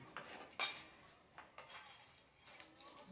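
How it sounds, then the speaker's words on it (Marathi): A spoon clatters and scrapes inside a small pan while gram flour pithla is stirred on a little village stove, giving quiet, irregular metallic taps close by. "असं हलवतच राहायचं. आता मम्मी मस्तपैकी परतून घेते."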